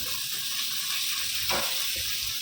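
Dried pomegranate seeds (anardana) sautéing in a pan for a potato samosa filling give a steady, close sizzle and fry, with a brief stirring scrape swelling midway; no talking.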